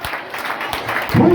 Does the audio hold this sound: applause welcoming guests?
yes